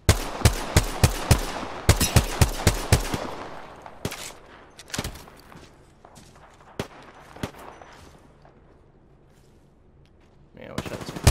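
Gunfire in a shooter video game: a rapid string of sharp shots opens, followed by scattered single cracks and short bursts with quieter gaps between them.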